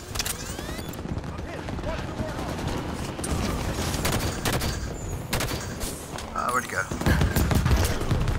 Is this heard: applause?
no